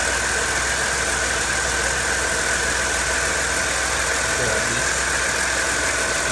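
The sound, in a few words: Holden Commodore car engine running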